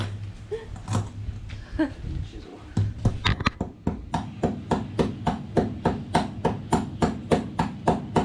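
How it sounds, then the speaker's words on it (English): A toy-sized hammer taps in a steady, rapid rhythm of sharp knocks, close by, while building a catamaran hardtop, after a stretch of talking and a few scattered knocks. "Davey is using the toy-sized hammer again"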